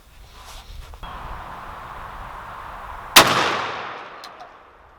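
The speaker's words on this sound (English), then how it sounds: "I'm going to shoot the left target at 20." A Stoeger M3500 shotgun loaded with Longbeard XR shells fires once at a target 20 yards away: a single loud, sharp blast after a stretch of quiet outdoor background, followed by a fading echo.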